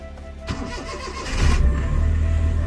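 A Maruti 800 car engine cranks and catches, building from a rough starter churn into a louder, steady running rumble close by.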